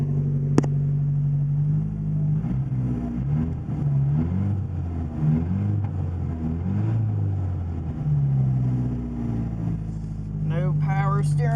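A 1980 Porsche 924 Turbo (931) idles after a cold start, a steady low engine rumble with gentle rises in revs, loud and close, and a brief click near the start.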